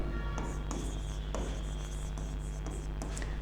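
Marker or chalk writing notes on a board makes scratchy, rhythmic strokes with short taps between them, continuous and close, over a steady background hum.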